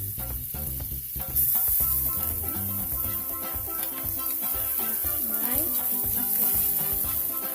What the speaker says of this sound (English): I am going to put some butter. Put some butter. I am sauteing my